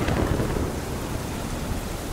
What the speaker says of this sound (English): Lightning cracked the sky.